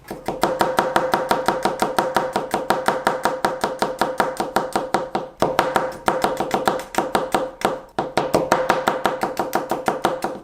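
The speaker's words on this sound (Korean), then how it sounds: "오늘은 마늘의 형태가 크게 구애받지 않고 큼직큼직하게 썰어주는 게 포인트라고 말씀드렸어요" Fast, steady knife chopping garlic into large chunks on a cutting board, dozens of crisp close strikes in a regular rhythm with one brief pause midway.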